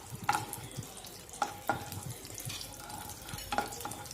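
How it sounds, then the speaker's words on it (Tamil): Cashews and raisins frying in ghee in a kadai for ashoka halwa: a soft continuous sizzle close by, broken by several sharp metal clinks of a spoon against the pan. "இப்போ முந்தி வறுப்பட்டுருச்சு திராட்சை சேர்த்து வறுத்துக்கலாம்"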